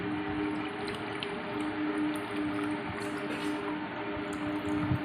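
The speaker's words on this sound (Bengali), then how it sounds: "এবার আমি এটা ছেঁকে নিচ্ছি।" Panakam drink being strained through a strainer, a steady liquid trickle and drip running continuously and fairly close with no talk.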